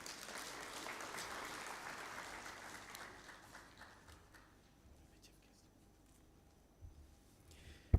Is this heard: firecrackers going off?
no